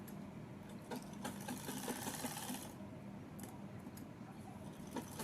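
Electric sewing machine running steadily as it stitches salwar fabric, a fast even mechanical whir at close range with a louder stretch in the middle and brief pauses near the end.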